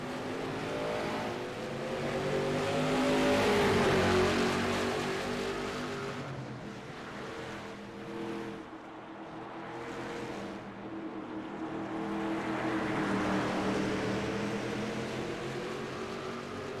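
Race cars roar down the front straightaway at Thompson Speedway, with engine drone rising and falling as cars pass close, then fading and building again as the field sweeps by.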